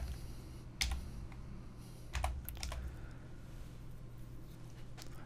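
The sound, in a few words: typing HTML code on a computer keyboard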